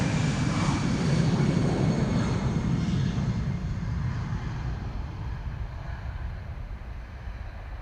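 A Cathay Pacific Airbus A350-1000 airliner at Amsterdam Schiphol Airport gives a loud, broad engine roar that swells early on and then slowly fades as it moves away.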